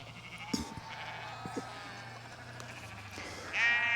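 Sheep bleat repeatedly in an island field near Oban, Scotland, several wavering calls at varying distances, with one louder bleat close by near the end over faint background noise.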